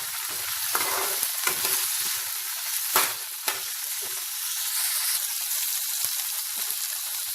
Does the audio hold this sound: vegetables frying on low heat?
yes